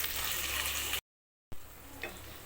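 Tomatoes and onions sauté in a pan with a close, steady sizzling hiss that cuts out briefly and then returns quieter, with a soft stirring scrape.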